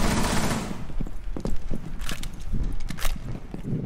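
Gunfire in a Rainbow Six Siege or Modern Warfare match comes as a dense, loud fusillade of rapid shots with clattering bursts. It runs continuously through the short stretch.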